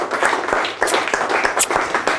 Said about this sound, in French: Je vous demande d'accueillir et d'applaudir Francine Lecoultre.